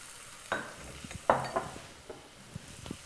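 Mutton frying with ginger garlic paste in a pan, scattered scraping stirs and soft sizzling, with a few sharper clinks of a spoon against the pot, close and moderately loud.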